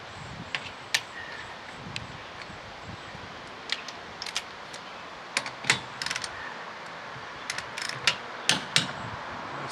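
Half-inch drive socket wrench rechecking the wheel nuts on a car: a run of quick ratcheting clicks and small metallic ticks, close by and fairly quiet, with no one talking.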